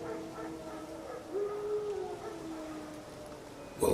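Wild dogs howl in The Witcher 3, a single long drawn-out howl rising and holding in the middle distance over soft ambient wind, followed by a sudden louder noise at the very end.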